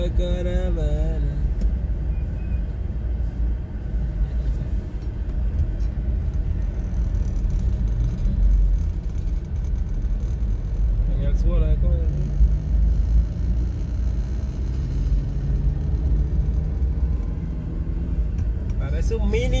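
A caravan of cars rolls past in a steady, continuous rumble of engines and tires, with the traffic noise staying dense and close throughout, and voices talking over it.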